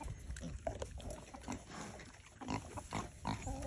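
Kunekune pigs grunt softly and close by, with a series of short low snorts and oinks spread through the moment at a quiet level.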